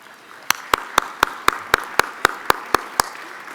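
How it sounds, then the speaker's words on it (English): Clapping at an awards luncheon comes as about a dozen crisp, evenly spaced claps at a brisk, steady beat, sharp and distinct against a quiet room. "So give yourself a round of applause."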